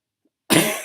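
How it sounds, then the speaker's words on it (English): A single sharp, close cough after a brief silence, fading out quickly. "Sorry about that, holding in a cough."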